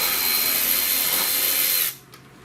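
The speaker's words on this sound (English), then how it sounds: "We'll unbolt it, and that'll pretty much get us in the clear." Power tool whirring steadily while loosening 10 mm bolts on the air cleaner housing of a 2007 Suzuki Forenza, loud and close, then cutting off abruptly near the end with a brief faint tap afterward.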